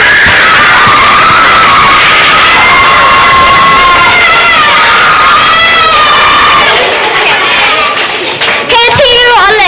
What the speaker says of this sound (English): Let's give a final round of applause to congratulate these students.